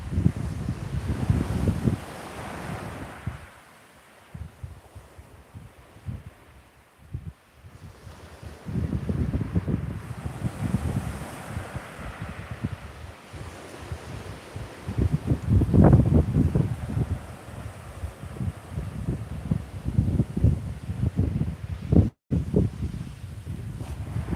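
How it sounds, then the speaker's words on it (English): Northeasterly wind at Chesil Beach buffets the microphone in low, gusty rumbles that swell and fade throughout, close and steady, with no voices heard. "You can probably still hear the wind, but it's the wind's behind me."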